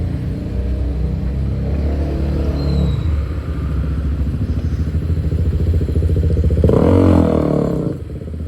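Phuket Smart Bus, painted blue, pulling up at a stop: a steady loud diesel rumble and engine drone that swells with a surge of mechanical clatter and hissing as it draws near, no voices.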